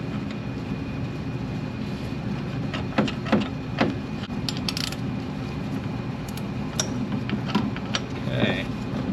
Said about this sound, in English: Take the nut off the back side.